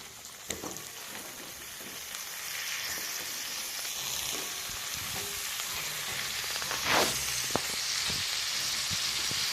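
Fried potatoes and vegetable stalks drop into a bata fish curry masala in a Bengali home kitchen, setting off a steady loud sizzle with scattered stirring scrapes and a brief louder burst midway, no talk.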